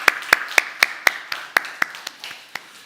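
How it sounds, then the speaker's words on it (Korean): Claps ring out in a Korean church during a Sunday service, about a dozen sharp, evenly spaced beats in a steady rhythm, close and distinct with no voices over them. "우리 다시 한번 박수 부탁드리겠습니다."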